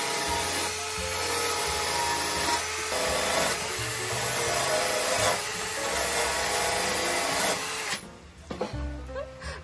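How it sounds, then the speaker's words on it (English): Brass parts from a La Cornue stove are polished by hand during a summer kitchen renovation, giving a steady, continuous rubbing and scrubbing close by. A tonal background, likely music, runs underneath. "polishing the brass"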